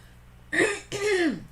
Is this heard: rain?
no